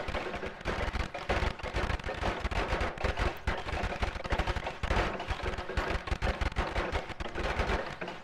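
Rapid gunfire from the video game Noita, dense bursts of shots crackling continuously throughout at a steady loud level with no talk over it.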